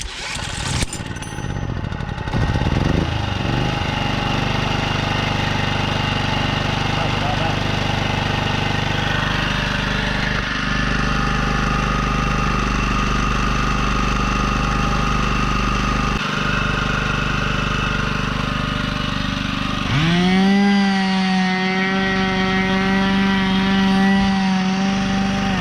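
A Chinese generator with a hybrid electric start system runs steadily and loudly throughout, its engine note dropping and settling into a smoother, lower hum after about twenty seconds.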